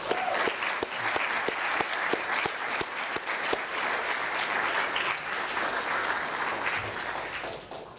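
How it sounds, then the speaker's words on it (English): An audience breaks into steady, dense applause, many hands clapping together with crisp individual claps standing out, continuing without pause for the whole stretch. "let's just pause and acknowledge that and acknowledge each other with a round of applause"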